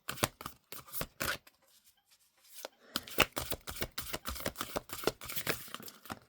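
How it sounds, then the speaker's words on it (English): A deck of slightly bent cards is shuffled in quick riffling bursts, close and crisp, with a short pause midway before the shuffling resumes. "These cards are getting hard to shuffle."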